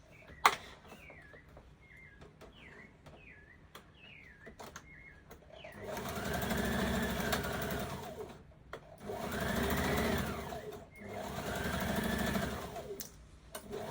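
Bursts of an electric sewing machine stitching a dart on a skirt, three sustained humming runs in the second half separated by short pauses, with faint bird calls and small clicks earlier.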